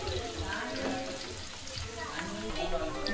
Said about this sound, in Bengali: তেলটা হিট হয়ে আসলে একটা তেজপাতা, 2টো এলাচ, একটা পেঁয়াজ কুচি। এবার এটাকে আমি নেড়ে নেব।